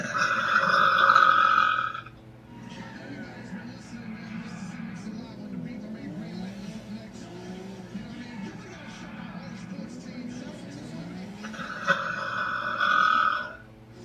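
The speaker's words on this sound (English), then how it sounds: "These are some good burps for you guys." A girl lets out a loud, drawn-out burp, then speaks for a while before a second long burp near the end.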